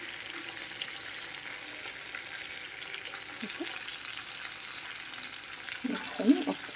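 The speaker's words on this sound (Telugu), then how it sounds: "ఇందులోకి ఇప్పుడు కొంచెం కరివేపాకుని కూడా యాడ్ చేస్తున్నానండి." Chandhuva fish frying in a pan with curry leaves, giving a steady close sizzle and crackle, with a few louder spatters and a brief stir near the end.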